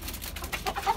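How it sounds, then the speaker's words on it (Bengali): A desi hen giving its short, repeated clucking call after laying an egg, close by and fairly soft, with a brief burst of a few notes. "ডিম দেওয়ার পর দেশি মুরগি একটা সাউন্ড করে ওইরকম"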